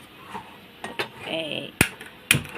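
A metal bowl is set down on a gas stove burner in a home kitchen while dal is being boiled, giving two sharp metallic clanks amid softer clinks and handling noises, with a brief voice in the background.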